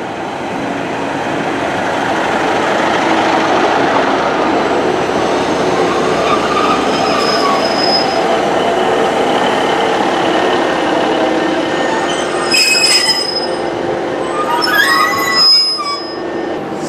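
A Class 150/2 diesel multiple unit train runs along steadily with a loud rumble, and its wheels give a few high squeals near the end.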